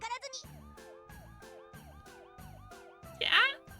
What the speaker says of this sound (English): Trying to avoid the approaching sirens,